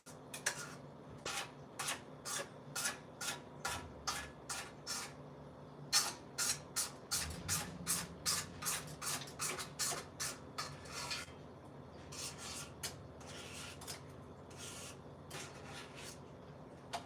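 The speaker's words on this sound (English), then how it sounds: "We're just gonna scrape down the sides." A rubber spatula scrapes down the sides of a mixing bowl while cooking in a camper kitchen, making a quick regular series of soft close scraping strokes that thin out toward the end.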